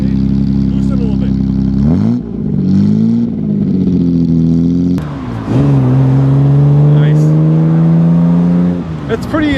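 A 1955 Aston Martin DB2/4 drophead coupe drives past and accelerates, its engine note climbing in pitch through gear changes with a brief lift-off between pulls, loud and close, while people talk over it.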